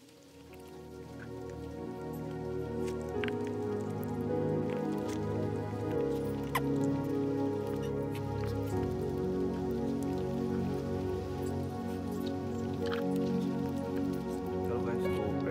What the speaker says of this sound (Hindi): अभी बारिश थोड़ा थोड़ा तो हो ही रहा है।